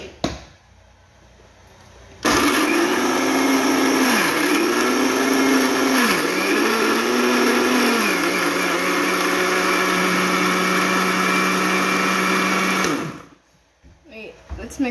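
An electric blender whirs loudly for about eleven seconds while mixing a banana milkshake, its motor pitch dipping and recovering several times as the contents bog down, then cuts off; quiet talk and handling noise come before and after.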